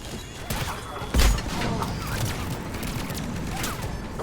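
Grenade blast in Mass Effect 3: a sudden low boom at about a second in, rising over a steady backdrop of game combat noise and clatter, loud and close, with no speech.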